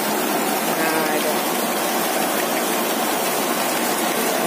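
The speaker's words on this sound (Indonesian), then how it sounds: "Wah, ini kebetulan lagi hujan lebat ya." Heavy rain pouring steadily outside a Padang noodle stall in West Sumatra, a dense continuous hiss that fills the whole stretch at constant loudness.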